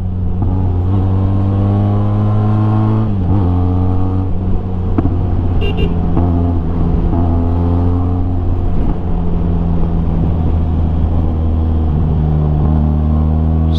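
A Benelli TRK 502 motorcycle's twin-cylinder engine rumbles loudly and steadily on the move, with several revving swells and a brief higher-pitched toot partway through.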